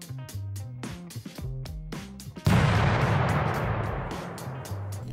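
Explosion effect in a Unity game: after a run of tonal, rhythmic game sounds, a sudden loud blast bursts in and its broad rumble slowly decays over several seconds.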